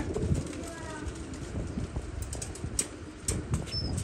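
A large, purebred pigeon gives soft, low coos close by, with a brief flutter and a thin whistle-like note near the end, over steady background hiss and muffled voices.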